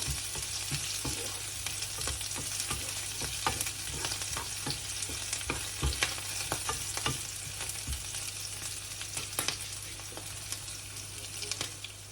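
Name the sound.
garlic and green chilies sauteing in a pan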